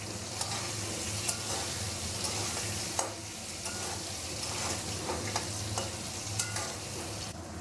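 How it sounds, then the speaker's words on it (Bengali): Potatoes seasoned with salt and turmeric fry in a pan with a steady sizzle, broken by scraping, clinking stirs at irregular intervals, close and moderately loud with no voices. "যখন তোমরা আলু ভাজবে একটু নুন হলুদ দিয়ে ভাজবে"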